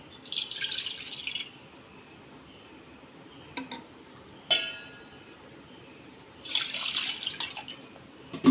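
Water pours into a pot for cooking turmeric-leaf rice dumplings in two short splashing bursts, separated by quieter moments with a couple of clinks, against a faint steady high whine.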